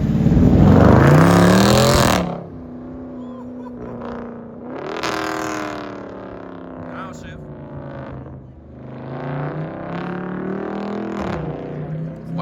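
A car engine at a street car meet roars through a loud rev at the start, then gives several shorter rising blips while people talk over it nearby.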